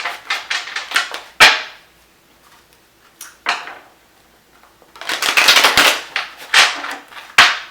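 A Paulina tarot deck shuffled by hand: bursts of crisp riffling and card slaps, in quick clustered flurries with short pauses, close and fairly loud, no talking.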